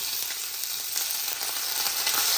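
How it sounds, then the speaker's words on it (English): Chopped onion hits hot oil already crackling with curry leaves, setting off a loud, dense, continuous sizzle that fills the whole moment without any voice. "Now I'm going to add onion"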